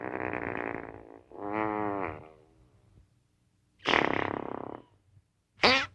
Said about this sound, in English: With a fart joke.